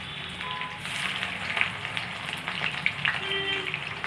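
Chicken curry with potatoes cooking in a home kitchen pan, a steady close sizzle and crackle of frying with a few small stirring clinks, no talking.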